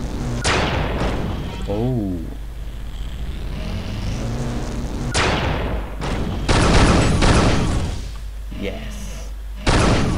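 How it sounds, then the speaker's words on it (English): Dispersion weapon practice shots in the video game Unreal 2, several punchy energy blasts with bright bursts spread across the clip, mixed with game effects and a backing score while someone briefly speaks. "Take a couple practice shots."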